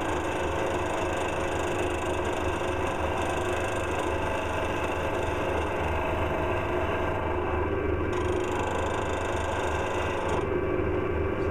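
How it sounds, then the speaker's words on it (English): A wood lathe runs steadily as a wood turner works a piece, giving a constant mechanical hum with a faint tool-on-wood hiss and a slight change in tone late on, with no talking. "Stop the lathe."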